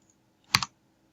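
Two quick keystrokes on a computer keyboard, entering a number into a field in the Unity editor; crisp, close clicks in a short burst with no talking around them.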